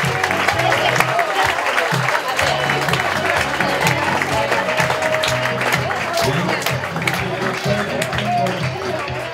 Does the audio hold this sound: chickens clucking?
no